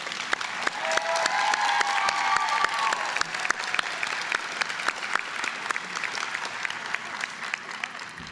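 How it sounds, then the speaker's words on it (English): Sustained applause from a large audience at a nursing graduation pinning ceremony, steady clapping throughout with some crowd murmur underneath. "I'm going to ask you to give them one big round of applause"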